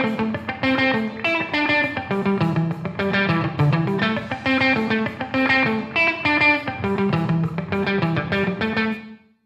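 Music plays continuously through a Chromaverb reverb plugin, a dense sustained mix of tonal notes and rhythmic hits with a washed, lingering tail, steady and loud until it stops abruptly at the end.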